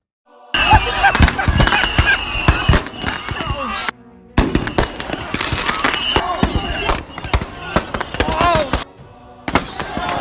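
Fireworks go off in a rapid, irregular volley of sharp cracks and bangs, loud and close, with crackling bursts continuing in clusters separated by brief pauses.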